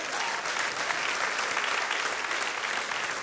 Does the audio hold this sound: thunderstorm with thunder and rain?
no